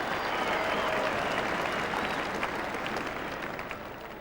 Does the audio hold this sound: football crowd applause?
yes